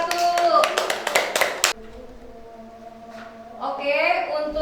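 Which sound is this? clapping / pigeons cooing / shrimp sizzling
clapping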